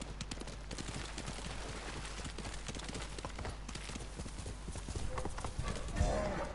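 Horse hooves clip-clop in a steady, even rhythm throughout in Ghost of Tsushima, close and clear, with a brief whinny-like sound near the end.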